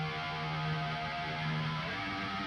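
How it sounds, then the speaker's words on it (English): Music played through a guitar distortion plugin, a dense buzzing distorted tone with sustained low notes, continuous and loud, with no voices. "So this could definitely put some distortion on here."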